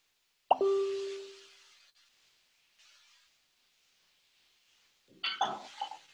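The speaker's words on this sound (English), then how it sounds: "we're now going to add our carrots and sweet potato to our mix" Carrots and sweet potato drop into a pan with a single sharp plop and clink that rings and fades, then a faint pause before a second burst of soft clattering and scraping near the end.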